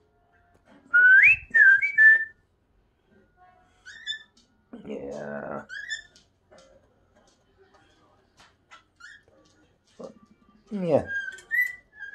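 A pet cockatiel whistles in short bright rising and falling phrases, with gaps of quiet between bursts, while a person speaks briefly and a cat may be nearby in a home.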